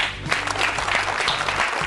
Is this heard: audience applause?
yes